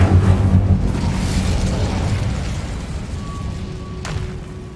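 In Hogwarts Legacy, an Incendio fire spell bursts out with a loud, deep booming rush that slowly settles into a roaring, crackling rumble, ending with a faint high tone and a small pop, with no speech.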